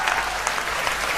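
Audience applause at a Hindi patriotic recitation about Maharana Pratap, a dense, loud wash of clapping hands held steadily throughout the short stretch.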